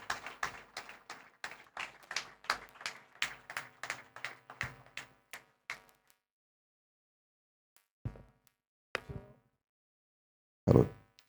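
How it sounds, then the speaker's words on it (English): Sparse clapping for a speaker at a wealth seminar: a dozen or so distinct, fairly rhythmic claps from a small group that stop abruptly, followed by silence and a few isolated claps and knocks. "Please put your hands together for Charles Avis"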